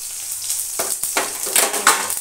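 Black mustard seeds and green chilli crackle and sizzle in a small amount of hot oil, a steady close hiss with sharp popping bursts as the seeds hit the pan.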